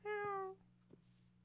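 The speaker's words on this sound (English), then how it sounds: "Dude, I found a cat. OCELOT." In Minecraft, an ocelot lets out a single short, high meow, fairly faint, followed by quiet game ambience with a couple of soft clicks.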